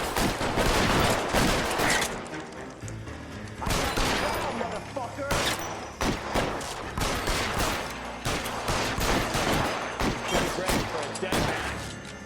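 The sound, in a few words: gunfire in the video game L.A. Noire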